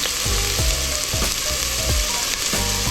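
Minced garlic frying in a pan with pumpkin rice cooking nearby: a steady close sizzle that runs throughout, broken by several rhythmic scraping strokes as the garlic is stirred around.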